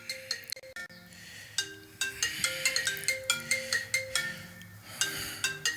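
A phone rings in a repeating electronic melody for an incoming call to a Malawian radio talk show, the ringtone loud and continuous on its own with no talk over it.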